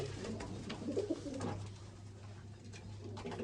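A pigeon coos softly a few times against a low steady hum, faint and fairly close.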